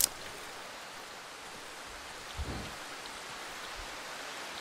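Steady rain falls in the dark woods of the video game Darkwood, a soft, even wash of drops heard alone at low volume, with a faint low rumble near the middle.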